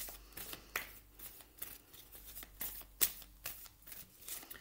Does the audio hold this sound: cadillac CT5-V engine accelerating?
no